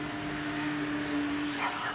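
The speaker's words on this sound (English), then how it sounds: "Now a plane's going by." A steady low drone, like a distant airplane passing, holds throughout as a continuous hum, with faint background rustle and a brief higher sound near the end.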